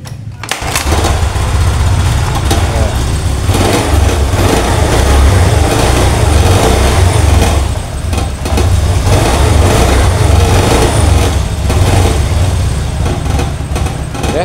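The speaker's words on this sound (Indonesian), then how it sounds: "Ini engkol nyala teman-teman ya." A Honda Beat scooter engine with a fault, running steadily after being kick-started, loud and close with a constant low idle drone throughout and faint talk at moments.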